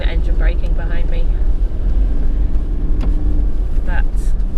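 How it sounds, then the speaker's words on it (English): Car engine braking in low gear on the Sandy Point forest track in Orbost State Forest, Victoria: a steady, loud low drone with rumble and road noise, with brief scrapes and knocks on top and a person talking now and then. "I just quite like having the engine braking behind me."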